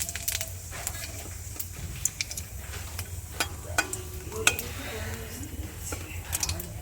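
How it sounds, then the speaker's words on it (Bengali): Dried red chili and cumin sizzle in hot oil in a kadai, a steady crackling hiss broken by sharp clinks and scrapes of a utensil stirring the pan, close up, with faint voices in the background. "তেলের ওপরে ফরং দিয়ে দিচ্ছি"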